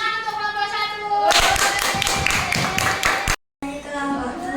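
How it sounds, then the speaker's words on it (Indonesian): A classroom of students applauds a student group's work with a burst of rhythmic, fairly loud clapping over a background of voices and music, which cuts off briefly before the talk and music resume. "Beri tepuk tangan untuk kelompok 1."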